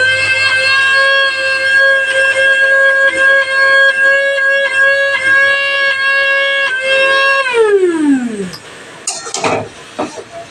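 Spices being ground in a home kitchen during cooking, heard as a steady electric grinder whine that winds down in pitch near the end, then a few clattering knocks.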